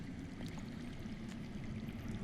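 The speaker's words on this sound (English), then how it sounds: "I hear water. From underground." Underground water flowing in a Game of Thrones video game, a faint, steady rushing and trickling stream heard alone at low level.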